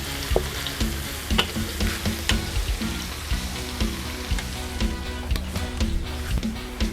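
Garlic frying in hot oil in a wok after pork cartilage was fried, a steady close sizzle with light crackles and occasional utensil taps, no talking.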